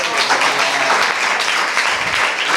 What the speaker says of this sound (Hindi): और तालियां बजाइए।